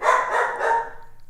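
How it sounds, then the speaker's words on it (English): A puppy gives a single short, sharp bark nearby, fairly loud and alone, fading quickly into quiet. "I might have to let that barking thing out."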